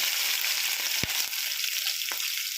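Steady loud sizzling of tempering spices frying in hot oil for rava upma, a dense continuous crackle with a couple of sharp pops, no voices.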